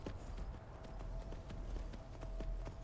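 A horse's hooves clip-clop in Skyrim Anniversary Edition, a quiet, even, regular beat of hoof strikes continuing throughout, with no talking over it.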